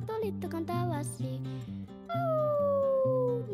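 A long, high sliding wolf howl imitation, probably sung by a voice, rises over a bouncy children's song with steady accompaniment in a Spanish nursery rhyme, holding loud and continuous through the second half.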